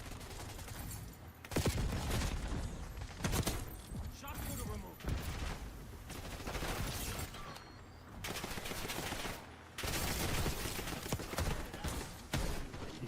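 Bursts of video game gunfire crackle in rapid volleys during an online shootout, with a few brief pauses between them and voices talking over parts of it.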